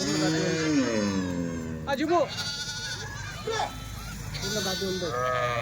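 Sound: Kathiawadi sheep bleating

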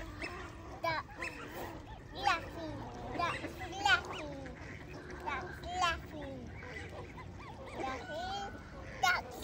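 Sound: duck

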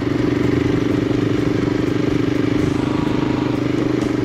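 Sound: Royal Enfield Himalayan motorcycle riding uphill

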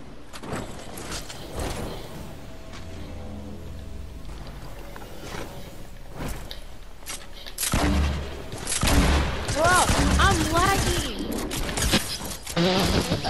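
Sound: gunfire from shooting an opponent in the video game Fortnite

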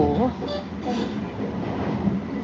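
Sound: train passing

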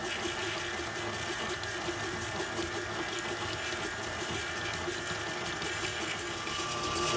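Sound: stand mixer creaming butter and sugar

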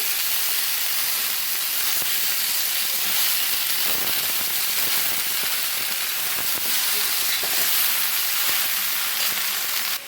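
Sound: stirring and frying vegetables with bottle gourd leaves

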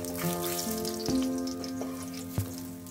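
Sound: coral fish pieces frying in oil

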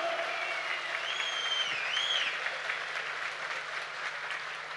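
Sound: crowd applause at an outdoor political rally

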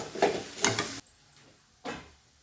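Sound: vegetables frying in oil in a pan

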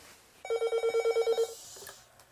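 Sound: telephone ringing

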